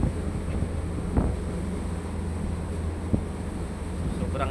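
Typhoon Tino's strong wind roars steadily and loudly, a dense low rumble with a couple of brief sharper gusts and no voices.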